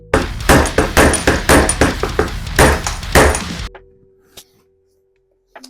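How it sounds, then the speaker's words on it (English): A hammer strikes a steel ice skate blade being converted to a roller skate, about a dozen sharp metallic blows in a steady rhythm, loud and close, then a quiet pause with a couple of faint knocks. "Let's get back to hammering."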